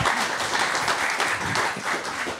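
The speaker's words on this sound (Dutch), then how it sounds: "Dan wil ik nu graag een hartelijk applaus alsjeblieft." Warm applause from an audience after a panel discussion, a dense, even patter of many hands clapping at moderate loudness throughout.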